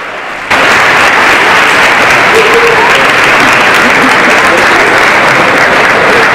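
Loud, dense applause from a crowd greeting a soldier's surprise homecoming, breaking out suddenly after a brief quiet moment and continuing steadily and close throughout.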